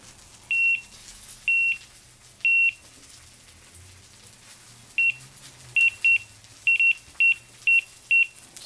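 A kitchen timer beeps in short, bright bursts beside a Blackstone griddle where a ribeye tomahawk steak cooks: three evenly spaced beeps, a pause, then a quicker run of seven more over a low sizzling hiss.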